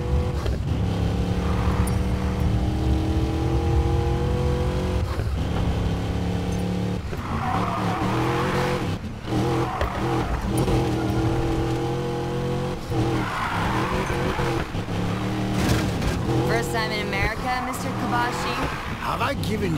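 Car racing at speed in the video game Need for Speed Payback, a loud continuous engine roar with tires skidding and squealing throughout, under intermittent speech.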